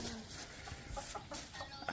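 A chicken clucks in a remote village in Laos, short repeated calls rising over a loud, hissy outdoor background.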